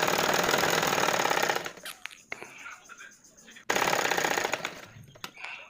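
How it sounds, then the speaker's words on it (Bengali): A sewing machine runs stitching straight along a strip of net fabric for a child's vest, with two sustained loud bursts of rapid mechanical chatter separated by a quieter pause of handling noises. "টুকরো কাপড়টাকে নিয়ে আমি এটাকে বরাবর সেলাই দিয়ে নিচ্ছি"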